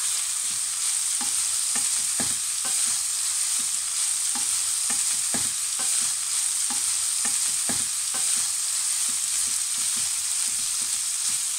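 Chopped greens are added to onions and peppers and stirred in a hot pan, with a loud, steady sizzle and frequent rhythmic scraping strokes of a utensil throughout.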